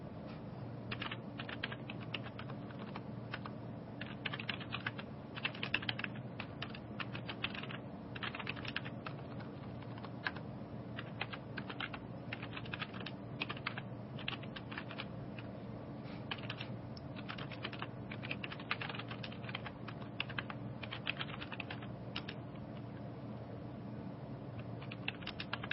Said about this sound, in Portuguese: continuando a digitar o nosso texto